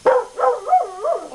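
A dog gives a quick run of four close, loud yips and barks with a whiny edge, all in under two seconds.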